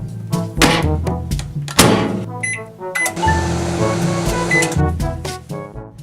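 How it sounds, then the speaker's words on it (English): Clunks and clicks of a microwave door and buttons, then the steady hum of the oven running, fairly close. "we're just going to put it in the microwave so it heats up"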